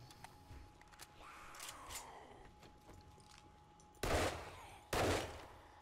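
Gunshots in 7 Days to Die during a zombie horde night, scattered lighter clicks and distant pops first, then two loud, close, sharp shots about a second apart near the end, with no talking.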